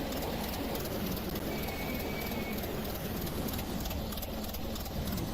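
A cart rolls along rails in the Roblox game Cart Ride Around Nothing, giving a steady, continuous rumbling noise that holds at an even level throughout, with no talking.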